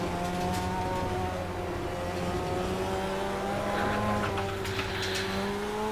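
Mazda RX-7 in a Nordschleife endurance racing simulation, its engine holding a steady whine as the rear tires scrub and squeal briefly near the end.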